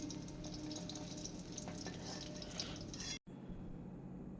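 Paneer frying lightly in hot oil gives a steady close hiss with faint crackles and stirring scrapes, cut by a brief drop to silence before the sizzle resumes.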